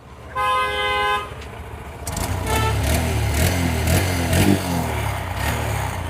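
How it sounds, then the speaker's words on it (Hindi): A horn toots briefly, then a Honda 125cc motorcycle engine settles into a steady idling exhaust rumble with rhythmic pulsing, close by. "तो एग्जॉस्ट साउंड सुन लेते हैं यहाँ पे।"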